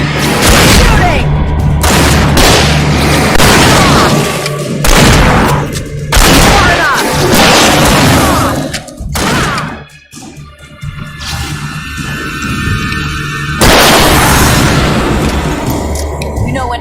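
Gunfire in the video game Alan Wake Remastered comes as loud, dense booming shots and bursts that fill most of the clip, with shouting voices over the top.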